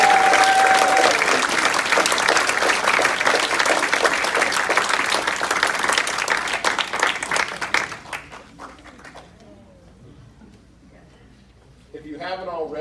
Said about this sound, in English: Let's all give our new members a round of applause.